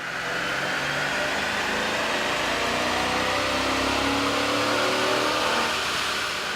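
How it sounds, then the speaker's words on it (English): A Chrysler 300C 6.1L V8 on a dyno drones loudly and steadily, slowly building in revs with a broad roaring hiss and no speech. "Here's a comparison of the sound of a Chrysler 300C on the dyno"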